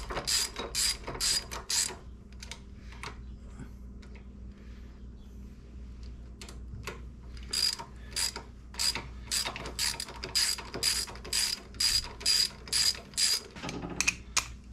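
Close ratchet clicking as bolts are run in on a Harley Sportster during a regulator/rectifier and stator job, coming in bursts of sharp rhythmic clicks with a quieter stretch in the middle.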